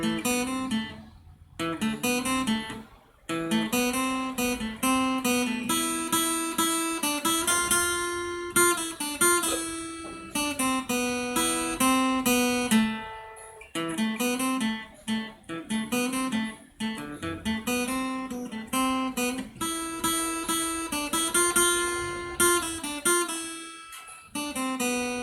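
Lead guitar plays the verse melody of Bella Ciao at full tempo, a steady run of bright plucked notes over 25 seconds with only brief gaps, loud and close with no talking.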